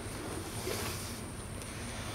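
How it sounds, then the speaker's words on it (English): Outdoor wind buffets the microphone with steady, low rumbling gusts, a continuous blustery roar with no speech. "It's kind of windy today."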